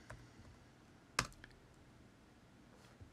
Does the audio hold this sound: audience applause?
no